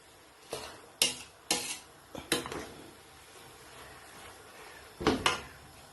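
King prawns chow mein being stirred and tossed in a pan, with several sharp clanks of a utensil against the metal and soft scraping between them, close and without talk.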